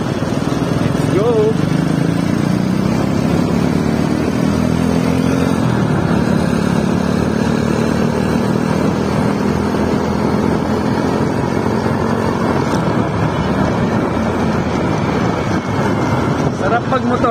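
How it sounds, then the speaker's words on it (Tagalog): A motorcycle rides along a road with a steady engine drone and heavy rushing wind noise on the microphone that continue for the whole stretch. "Sarap magmotor dito, di mainit."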